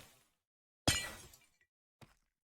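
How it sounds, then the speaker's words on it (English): Glass shatters in a video game: a sudden loud crash with bright splintering fragments that decays over about half a second, followed by a brief faint clink, with near silence around it. "interestingly, it made the glass breaking sound"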